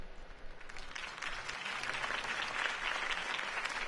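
Crowd applause for a campaign speech in a Batman video game scene, a steady wash of clapping that swells and holds, heard fairly faint and distant with no voices over it.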